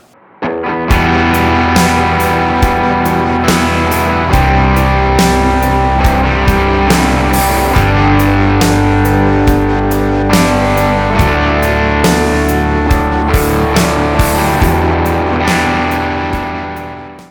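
An electric guitar part played with reduced gain, strummed chords ringing with a lightly driven, clearer tone and steady rhythmic attacks, loud and upfront before a final chord fades out.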